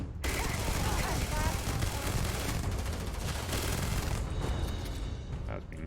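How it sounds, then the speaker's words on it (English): Dense automatic gunfire in the video game Starfield hits the player, sounding as rapid overlapping shots and blasts. The loud, continuous barrage lasts about six seconds and eases slightly near the end. "I was being shot in the back there."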